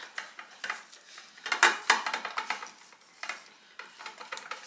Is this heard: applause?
no